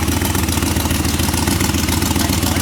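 A Volkswagen Bug with a turbocharged engine idles on a dyno, a steady, loud, even rumble with a constant low throb and no break or pause.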